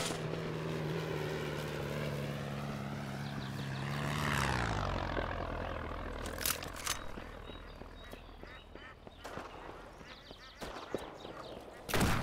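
A propeller crop duster plane swoops over in the farming shooter game Shotgun Farmers, its engine drone rising and then falling away, followed by scattered clicks, thumps and small game effects.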